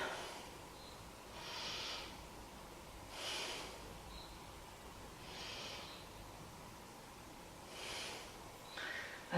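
Slow, deep breathing is heard during a seated yoga twist, with about five soft breath swells at an even pace that are close and fairly quiet.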